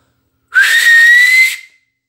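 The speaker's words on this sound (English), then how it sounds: "And eventually what it's going to sound like is this." A single loud, piercing finger whistle, held steady for about a second with a slight upward pitch, clean and close.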